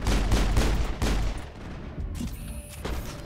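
Rapid bursts of gunfire in the video game Mass Effect, dense overlapping shots in the first half easing into scattered, more distant reports.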